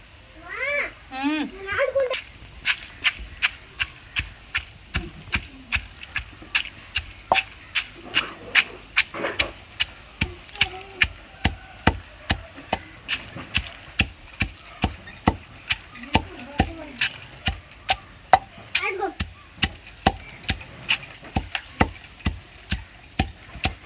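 Dried red chillies and coriander seeds being ground by hand on a stone mortar for gongura chutney, a steady run of sharp, evenly spaced scraping strokes close by, with a cat meowing in between.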